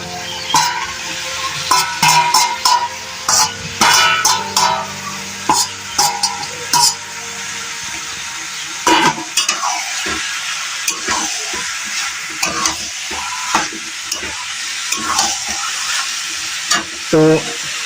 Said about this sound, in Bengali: তো আলুগুলো এখানে ঢেলে দেবো।